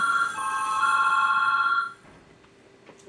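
A telephone rings indoors with a steady electronic trill that holds for about two seconds and then stops, leaving quiet room tone and a faint click.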